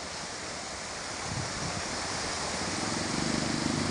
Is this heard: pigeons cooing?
no